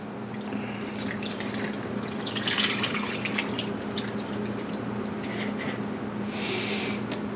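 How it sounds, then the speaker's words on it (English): Marinade pours over cut deer meat for jerky, a steady liquid splash and trickle running the whole time, with brief louder bursts midway and near the end. "we're just going to pretty much pour this marinade all over the meat"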